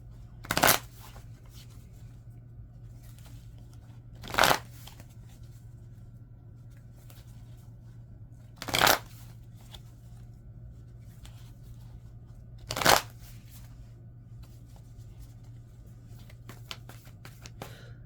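Tarot cards are shuffled in four sharp, brief riffles spaced a few seconds apart, close and crisp over a quiet background hum.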